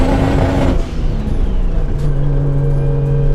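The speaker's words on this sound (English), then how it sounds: "It's just popping and banging, trying to keep the car going straight" A Toyota Supra accelerates hard at full throttle, its engine roaring loudly and steadily from inside the car with the pitch dropping and climbing across gear changes; no talking.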